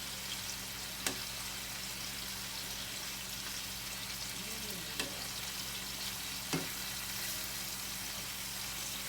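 Shrimp frying in a pan, a steady broadband sizzle that holds all the way through, broken by a few sharp ticks and pops. No one speaks.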